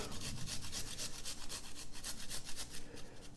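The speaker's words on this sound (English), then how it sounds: "got my little fine grater here" A fine kitchen grater worked in quick, regular back-and-forth scrapes, a soft steady rasp close by and fairly quiet, with no voices.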